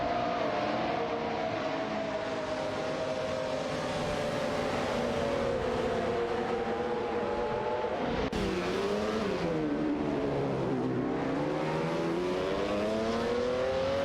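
Race cars in a racing video game roar continuously at high revs, engine pitch sliding down and rising again as they battle for position, loud and unbroken throughout.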